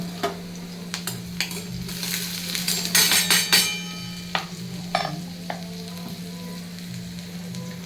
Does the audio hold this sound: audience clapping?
no